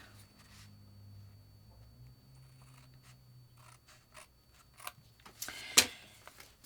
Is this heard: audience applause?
no